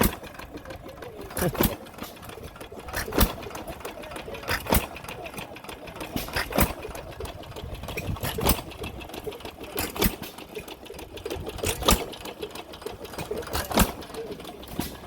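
A Fairbanks Morse 7.5 horsepower hit and miss engine runs close by with sharp, evenly spaced firing pops about once a second over a steady mechanical clatter, with people talking in the background at an antique tractor and engine club show.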